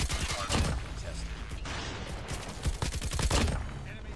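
KN44 rifle firing through an iron sight in Black Ops 4 ranked play: dense, rapid bursts of shots in a busy, steady barrage.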